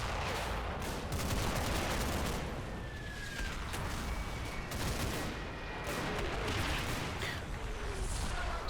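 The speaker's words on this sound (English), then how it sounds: "It's well timed actually, a mortar barrage coming in." A mortar barrage in the WWII Normandy war game Combat Mission: Battle for Normandy, with a dense, continuous rumble of crackling blasts and impacts and no clear gaps, fairly loud and sustained throughout.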